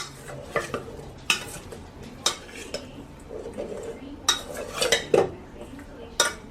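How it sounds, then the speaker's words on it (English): Chicken wings are worked by hand into a seasoning mixture in a bowl, producing close, intermittent clinks and wet stirring scrapes at an uneven rhythm. "I'm just going to work this mixture into the wings"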